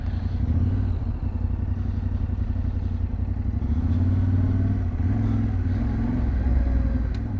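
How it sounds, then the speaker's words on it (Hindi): Motorcycles ride past at the US-Mexico border crossing, their engines clattering and revving in a continuous mid-distance rumble that swells slightly and eases with no voices. "वो बाइक मोटरसाइकिल वाले उधर से जा रहे हैं"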